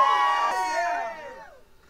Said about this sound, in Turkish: Mesela bravo sesi duyurabilirsiniz.